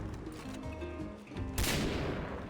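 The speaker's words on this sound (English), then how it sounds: "Shotguns have a heavy, satisfying boom with a tail of reverb that changes depending on whether you're indoors or outdoors." Gunfire in the video game Far Cry 3: music-like tones play first, then a single loud, sharp blast hits partway through and rings out in a long reverberant tail.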